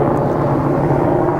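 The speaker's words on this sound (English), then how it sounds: "Apologize for the helicopter here." Steady low engine drone of a helicopter flying overhead, holding at a constant level throughout without fading.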